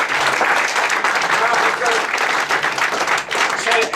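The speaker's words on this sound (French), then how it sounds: "Applaudissons le Seigneur." Church congregation applauding steadily at a French-language healing seminar, a dense, loud wash of clapping that carries on throughout with voices mixed in.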